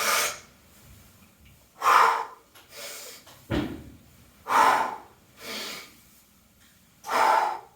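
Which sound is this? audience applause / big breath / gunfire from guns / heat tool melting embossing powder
big breath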